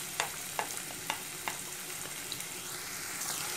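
Garlic and onion frying in a little hot oil in a wok, a steady close sizzle with several sharp clicks of stirring spaced about every half second.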